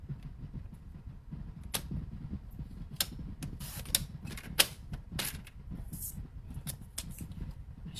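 Paper being cut into one-inch strips for a handmade birthday card, heard as a run of crisp, close snips and rustles at irregular intervals over a low, steady background.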